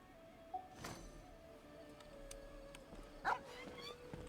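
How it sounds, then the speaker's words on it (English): A dog in the video game Genshin Impact gives two brief, faint yips, a few seconds apart, over quiet in-game ambience. "The dog."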